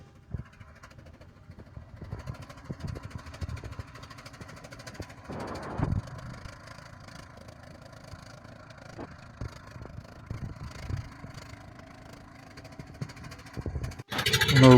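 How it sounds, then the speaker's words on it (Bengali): A river ferry boat's engine runs steadily at a low, continuous drone throughout, with a brief louder swell midway and a rising rush of noise at the very end. "আমাদের খেয়ার নৌকা ছেড়ে দিল।"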